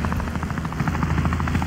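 Helicopter in the video game Wobbly Life, a steady, loud rotor drone with rapid rhythmic chopping pulses that holds throughout, close and unbroken, with no talk over it.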